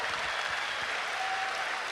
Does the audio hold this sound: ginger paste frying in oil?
no